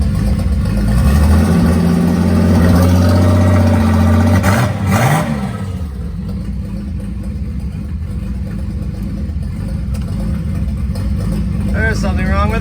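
A Nissan 280ZX engine runs with its transmission turning, a steady mid-low drone with a rising rev near the start that drops back into a continuous running hum for the rest.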